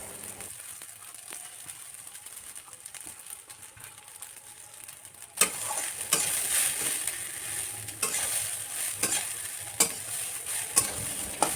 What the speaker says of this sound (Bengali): ধুয়ে রাখা ডালিয়াগুলো দিয়ে নেড়ে চেড়ে খুব ভালো করে ভেজে নেব